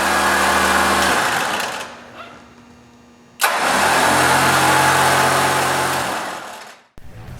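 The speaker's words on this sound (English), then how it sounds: "Now flip the knob to winch and spool out a few feet of line to make sure everything is working properly." A WARN winch on a Jeep spools out wire rope line, its electric motor whirring loud and near in two bursts separated by a brief pause, with no talk over it.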